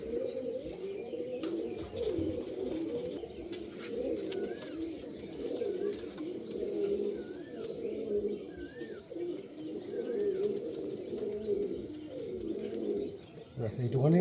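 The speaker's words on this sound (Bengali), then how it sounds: "এখন ভয় পাচ্ছে পায়রা" Andhra pigeons cooing in a coop, soft repeated low coos and occasional chirps that keep going throughout, heard at moderate distance and fairly quiet, with some faint background noise.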